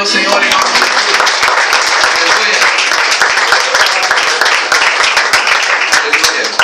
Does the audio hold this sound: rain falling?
no